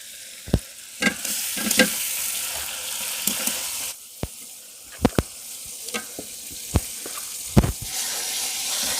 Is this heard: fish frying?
yes